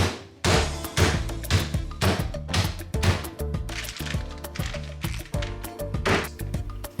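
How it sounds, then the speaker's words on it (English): Repeated heavy thuds of a meat mallet pounding chicken on a board, steady and close, many blows in a fairly regular rhythm. "get you a meat tenderizer or a meat hammer"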